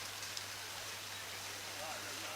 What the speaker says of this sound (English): we're getting rain coming down now